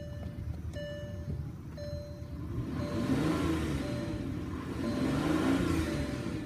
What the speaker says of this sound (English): I'm going to rev up this engine so you can hear it out here.